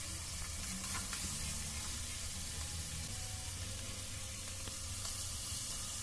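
Salted pieces of banana stem fry in hot oil in a pan, a close, continuous sizzle and hiss that stays steady from start to finish with faint crackles.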